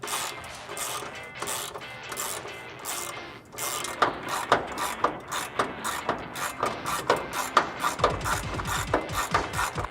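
A ratchet backs out the last rear bumper bolts on a 2009-2014 Ford F150 during a bumper swap. It makes close, loud, rhythmic clicking bursts, sparse at first and then a quick steady series of sharp ratcheting strokes.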